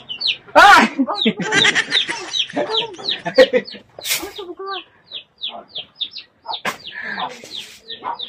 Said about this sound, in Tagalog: Meron kaming ito kasi may mga manok, ang ingay kasi sa tenga